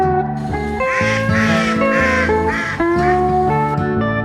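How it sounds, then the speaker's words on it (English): A duck quacks loudly and harshly in a rapid run of nasal calls, close and alone with no talk, over a steady tonal background. "Duck."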